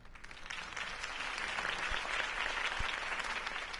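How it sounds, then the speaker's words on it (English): Crowd applause after a political campaign speech in a video game, a steady broadband clapping wash that swells in the first half second and holds loud throughout, with a couple of brief low thumps. "If only Mr. Wayne, my campaign's largest backer, could have heard that applause"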